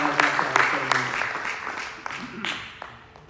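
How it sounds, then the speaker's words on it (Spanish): A church congregation claps in a short burst of steady, fairly close applause that thins out toward the end, with a voice speaking over it. "Denle un aplauso al Señor en esta hora."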